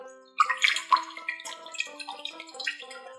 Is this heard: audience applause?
no